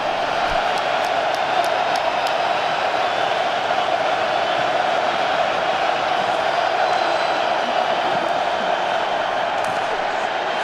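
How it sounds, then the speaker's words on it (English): A large, loud stadium crowd at a pro football game between the New York Guardians and St. Louis BattleHawks roars steadily before a fourth-and-four play, a dense, unbroken wall of noise. "Crowd loud, 4th and 4."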